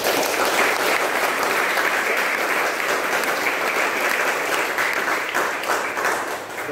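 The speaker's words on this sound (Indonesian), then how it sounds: "Kita juga memberi penghormatan tepuk tangan untuk Bapak Ri" An audience claps at a Catholic church mass installing a building committee, a dense, steady applause that stays loud throughout and eases slightly only at the very end.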